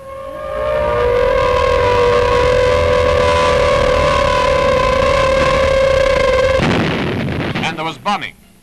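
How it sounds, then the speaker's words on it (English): A loud, sustained wailing siren fitted to attacking Blenheim aircraft rises and holds for several seconds, then cuts into rumbling blasts and crackling noise during a military demonstration attack. "Blenheims flew in with specially fitted screaming sirens to add noise terror to the attack."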